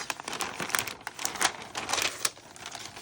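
Sheets of vellum paper crinkle and rustle close up, a run of crisp, irregular crackles and soft scrapes with no voices.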